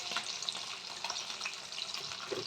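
Cauliflower, potatoes and lentil dumplings frying in a pan give a steady, close hiss with faint crackles, continuous and with no talking.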